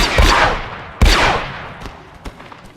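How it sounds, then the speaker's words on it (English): Blaster gunfire in the Star Wars: The Old Republic video game, with two loud, sharp shots about a second apart followed by fainter trailing bursts. "Jory, shoot to kill!"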